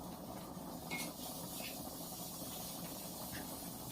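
Chilli powder tempering poured into a Kerala fish curry with drumsticks and raw mango, giving a soft, steady sizzling hiss that holds through the whole moment without letting up, faint and a little distant, with no voices over it.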